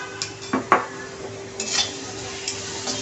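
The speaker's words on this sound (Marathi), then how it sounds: "आणि ह्याच्यामध्ये छान असं मिक्स करून घ्यायचं आहे सोया सॉस." A spoonful of soy sauce is stirred into a pan of chicken filling on a low flame, with a few light metallic taps and scrapes of a spoon over a soft sizzle, close and quiet, no talking.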